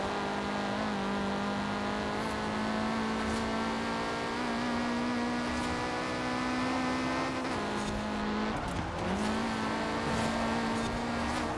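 Lamborghini Diablo SV racing engine in Forza Horizon 4, a steady sustained drone that dips and recovers briefly near the end, with faint engine whine from other racing cars behind it.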